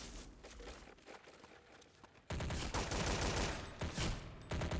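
Gunfire from snipers in Counter-Strike: Condition Zero Deleted Scenes, rendered as a dense, loud crackling barrage that jumps in level halfway through and carries on with bursts and footstep-like clatter.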